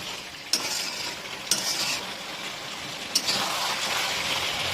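Chicken sizzling in a pot for biryani with a bright continuous hiss, punctuated by three sharp clinks of a utensil stirring.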